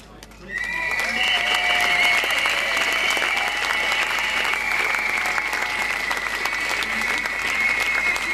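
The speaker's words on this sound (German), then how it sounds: "Applaus" Applause fills a crowd at an outdoor anti-nuclear rally calling for the Biblis plant to be shut down, starting after a brief gap and holding steady and loud to the end, with some voices mixed in.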